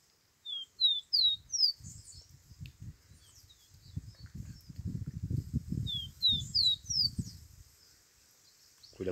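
Caboclinho birds give short high chirps in quick bursts of three or four, moderately close, with low rustling and handling noise in between and no voices.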